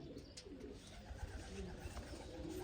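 Pigeons cooing softly at a coop where young birds are being released, low murmuring coos scattered across a steady background hum, fairly faint and without speech.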